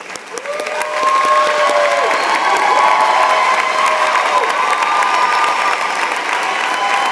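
A commencement audience in a hall gives a sustained round of applause for graduates, dense steady clapping that swells after the first second and holds loud, with scattered cheers rising above it.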